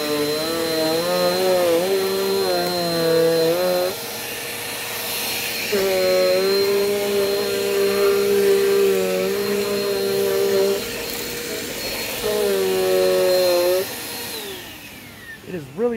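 An upright vacuum cleaner runs on carpet, a loud, close motor whine that rises and dips in pitch as it is pushed back and forth, with a voice briefly heard.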